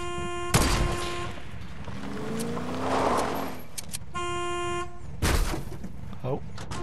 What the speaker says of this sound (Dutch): Hoorde je die toeter?